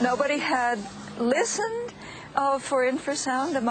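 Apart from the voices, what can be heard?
No everyday noises stand out.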